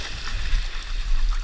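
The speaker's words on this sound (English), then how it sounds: "Dump the water out." Water dumped out of a calf hutch on a farm, a sloshing, splashing pour with a low rumbling wash, close and fairly loud for a brief moment.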